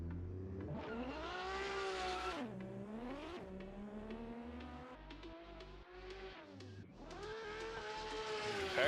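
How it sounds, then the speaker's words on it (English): Race car engine in a racing game revving hard, then accelerating in rising, falling sweeps with repeated gear changes, loud and close throughout, no voices. "We're revving up his engine."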